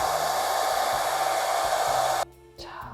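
A hair dryer on high heat blows steadily over a ceramic plate, a loud continuous whoosh with a low hum, then cuts off abruptly near the end, leaving quiet handling noise.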